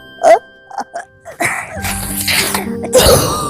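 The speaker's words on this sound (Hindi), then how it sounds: "तो वो बुलबुल को आई बहुत तेज की छींक" A sneeze sound effect in a children's Hindi phonics story, a sharp close burst at the start followed by smaller bursts and a louder, noisier stretch with a bright chiming tinkle near the end.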